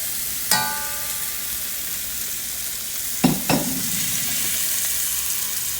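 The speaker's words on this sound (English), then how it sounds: "What we want to do is we want to get a nice sear on there." Pork searing in a pan with a steady background sizzle, punctuated by a few sharp hisses and clatters as pieces land in the hot pan; no talking.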